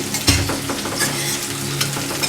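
Chilies stir-fry for Thai basil chicken (kra pao kai) in a hot pan, sizzling steadily with a sharp clack of a utensil near the start and a few lighter scraping stirs.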